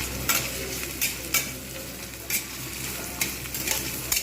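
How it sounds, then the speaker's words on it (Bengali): Chopped garlic and onion fry in a pan for kolmi shak bhaja, giving a steady close sizzle broken by several sharp stirring scrapes and clinks, with no voices. "পেঁয়াজটা আমি হালকা করে এবারে ভেজে নেব"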